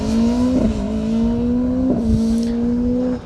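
Mark Jasper's Ford Escort rally car on a circuit stage, its engine close and loud, holding a steady high note with two sharp gear-shift breaks, then dropping off at the end.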